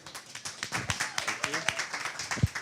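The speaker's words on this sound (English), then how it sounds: "Let's give Christian a round of applause" Scattered claps from a conference audience after a technology leadership speaker, a few sharp hits standing out, mixed with talk from the room.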